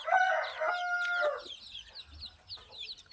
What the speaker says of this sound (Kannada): ಚೆನ್ನಾಗಿದ್ದಾವಲ್ಲ ಮರಿಗಳು.